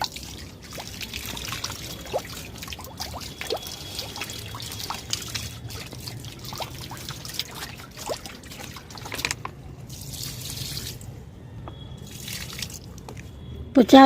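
Water trickles and splashes as it is poured into a buttermilk fertilizer mixture for ridge gourd plants, a steady dribbling pour with scattered drips, while a person talks over it.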